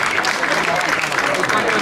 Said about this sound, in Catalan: Aplaudiments para ellos